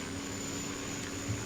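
A Cessna Caravan's turboprop engine drones steadily at takeoff in a flight simulator, a continuous broadband hum with a high whine on top, even and unbroken throughout, with no voices.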